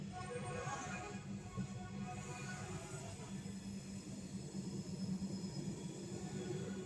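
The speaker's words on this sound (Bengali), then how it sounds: "আমাদের ট্রেন ঢুকছে জয়পুর জংশন" The Delhi-Jaipur AC Double Decker Express (12986) pulls into Jaipur Junction, with a steady, close rumble of wheels and carriages rolling on the rails throughout.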